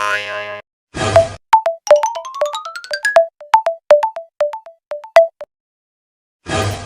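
Electronic phone tones beep and warble in a quick irregular series, some rising in pitch, during a ransom call made to a kidnapped man's wife, with brief noisy bursts at the start and end.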